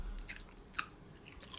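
Larvets worm snacks crunch between the teeth, with three or four sharp, close crisp bites and chews spaced through a quiet moment, no talking.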